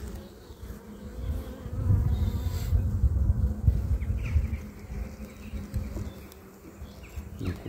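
Honeybees buzz in a dense, continuous drone close by at an open hive, swelling a little louder in the middle and easing again toward the end.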